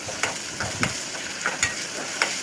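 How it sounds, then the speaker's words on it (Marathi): Mixed vegetables sauté in a little oil in a pan, a soft sizzle punctuated by quick scraping taps of a spatula stirring at an uneven rhythm, close by. "आपण थोड्याशा तेलामध्ये परतूया।"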